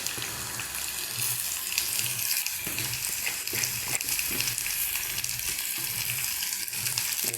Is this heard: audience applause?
no